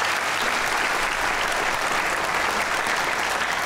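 An audience at a live comedy show applauds with a dense, continuous wash of clapping that stays loud and even throughout.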